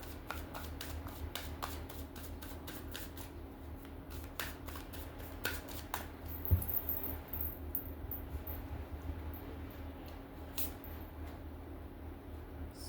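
Tarot cards shuffled in a deck, giving a quiet, steady stream of soft riffling and flicking with a few sharper snaps, heard up close and low in level with no talking.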